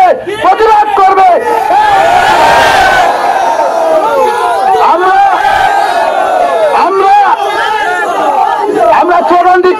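A large protest crowd on the street in Kalain, Cachar, Assam chants slogans in unison, a loud rhythmic roar of many voices rising and falling without pause.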